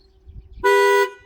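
A 2016 Toyota Camry horn sounds once in a loud, steady honk lasting about half a second, triggered by the remote panic button, after a quiet moment with faint background noise.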